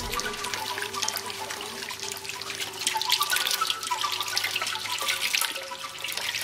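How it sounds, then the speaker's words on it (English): Water is poured and strained with bamboo paddles at Inle Lake in Myanmar. The sound is a soft, continuous trickle and splash of liquid with scattered drips and sloshes, faint and close. "just moving all the liquid around so it gets strained nice and evenly"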